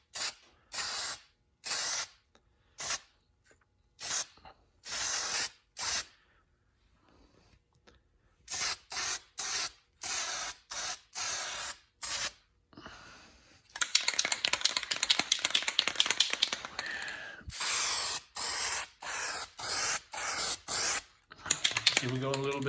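A spray gun lays clear coat onto a Mercedes C36 AMG bumper in a series of sharp, hissing bursts, each about a second long and separated by short pauses, with a steadier stretch of spraying in the second half.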